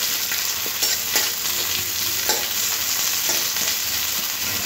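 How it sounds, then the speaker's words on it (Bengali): Thinly sliced onions fry steadily in a hot pan, a close, loud continuous sizzle with occasional stirring scrapes and no voices. "এবার 2 থেকে 3 মিনিট পেঁয়াজটা ভেজে নিতে হবে"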